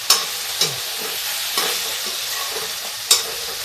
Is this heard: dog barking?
no